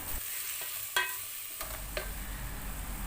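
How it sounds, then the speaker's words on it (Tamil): Onions sizzle and are stirred in a hot pan while being sautéed with a little salt for a kheema biryani. There is a steady close frying hiss with a few sharp scraping stirs and no talking. "வெங்காயம் கொஞ்சம் நல்லா வதங்கணும்."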